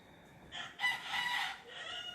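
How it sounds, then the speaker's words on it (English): A rooster crows once, a fairly faint, drawn-out cock-a-doodle-doo rising and trailing off, with no one talking. "And a rooster."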